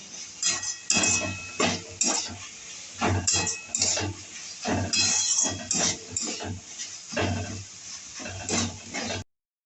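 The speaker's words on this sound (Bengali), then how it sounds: "টমেটো সস চিলি সস এবার ভালো করে নেড়ে চেড়ে দেবো" Chicken spring roll filling with tomato and chili sauce is stirred in a pan, with rapid, repeated metal spoon scrapes and clinks close up, then an abrupt stop.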